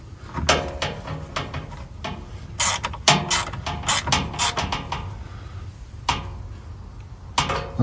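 Ratchet snugging up the fuel filter bolts on a 2021 Ford 6.7 Powerstroke diesel, sharp metallic clicks in short repeated bursts with pauses between, close and clear with no talking.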